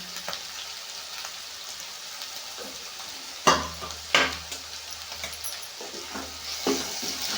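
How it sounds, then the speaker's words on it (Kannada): Chili paste sizzling as it hits fried onions in a hot pan, a steady frying hiss with a few sharp clatters of a spoon stirring, close and moderately loud, no talking. "ಈರುಳ್ಳಿ ಎಲ್ಲ ಫ್ರೈ ಆಗಿದ್ದಾವಲ್ಲ ಇದಕ್ಕೆ ಮೆಣಸಿಕಾಯಿ ಪೇಸ್ಟ್ ಮಾಡಿ ಇಟ್ಕೊಂಡಿದ್ವಲ್ಲ ಅದು ಹಾಕ್ತೀನಿ"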